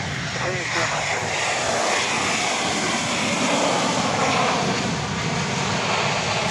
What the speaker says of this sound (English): we watch a flight from Denver, flight 1576, come in, 737-700